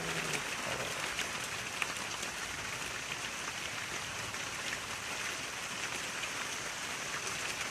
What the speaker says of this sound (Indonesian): Bari hujan ngerincik.